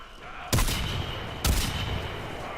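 Two loud, heavy cannon blasts from the Zarr in Warframe, about a second apart, each a sharp boom with a rumbling tail and no talking.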